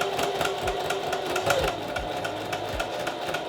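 A sewing machine running steadily as it stitches a pocket flap onto a men's harness vest, a fast continuous mechanical whirr with rhythmic needle clatter, close up and without speech.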